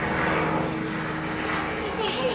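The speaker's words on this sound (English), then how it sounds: "Guys, this plane sounds like it's right here." A fixed-wing propeller airplane passes close overhead near an airport, a loud sustained engine drone. Faint children's voices sound in the background.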